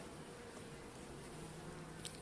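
Faint, continuous buzzing from a colony of Caucasian and Carniolan honeybees at an open hive readied for winter, a low steady hum with no voices over it.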